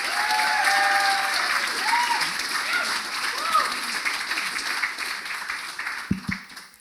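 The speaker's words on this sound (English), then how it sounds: "Give a big round of applause" An audience at the Defuse 2019 design conference gives a round of applause for two speakers, steady crowd clapping with a few rising whistles and voices mixed in, fading toward a couple of sharp knocks at the end.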